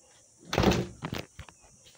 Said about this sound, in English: I'll just shut the door.